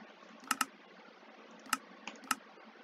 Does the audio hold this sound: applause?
no